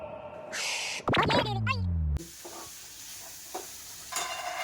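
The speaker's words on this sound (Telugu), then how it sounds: "సో పల్లీలు కొంచెం రోస్ట్ చేసుకుంటున్నారు." Peanuts are roasted and stirred in a pan on a home stove, with scraping and faint sizzling between bursts of talking.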